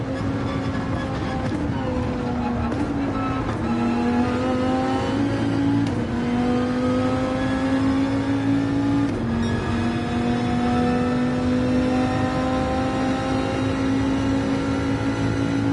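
Porsche 911 racing in the Gran Turismo 7 video game, a loud, steady engine drone climbing in pitch as it holds high speed near 162 mph, with a brief gear-change dip partway through and no talk.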